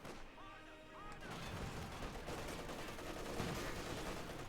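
Dense, steady gunfire and distant battle noise from a Company of Heroes 2 match, a machine gun opening up amid a continuous fusillade, loud and unbroken for several seconds, with a faint voice underneath.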